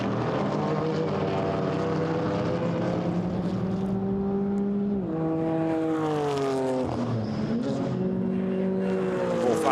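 GT4 race cars, a BMW M4 among them, pass the timing line at Paul Ricard during a European Series race. Loud engines whine and shift through gears, with pitch swoops and a continuous roar as the cars sweep past close by.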